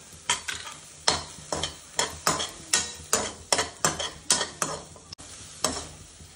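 Vegetables in melted butter being stirred in a pan, with a steady run of about a dozen distinct scraping strokes over a constant close sizzle.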